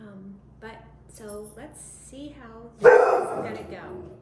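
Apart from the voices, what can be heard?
dog barking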